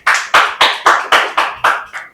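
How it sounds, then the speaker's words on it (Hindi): Eight sharp, loud claps from an audience land in an even rhythm, close by, with no voices, at an open mic poetry event. "तो एक बार जोरदार तालियां हो जाए।"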